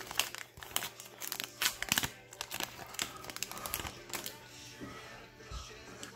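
A baseball card pack wrapper is torn open and crinkled close to the microphone in quick bursts of crackling and ripping, with some soft talking mixed in.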